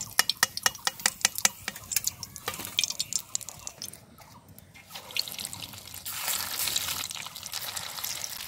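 Semolina and potato snacks fry in hot oil while being stirred, giving dense rapid crackling pops and drips at first, then a steadier, louder hissing bubble close by.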